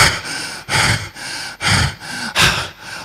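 A voice imitates heavy panting, with six loud, close, rhythmic breathy gasps that alternate between harsher and softer breaths at an even pace.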